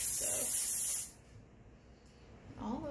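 Texture spray bursts onto dry hair in a single close, loud hiss that lasts about a second, followed by quiet and then a faint voice.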